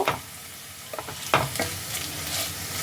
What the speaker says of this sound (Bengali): এভাবে আলুটা ফ্রাই করতে করতে খুন্তিটা দিয়ে আমি একটু স্ম্যাশ করে দেব